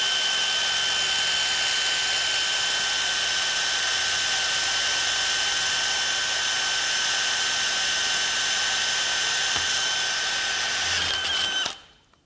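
A power drill with a 5/16 inch Spyder Mach Blue Stinger bit bores through several layers of material at reduced speed, giving a steady, loud whine that holds evenly for about eleven seconds, then winds down and stops.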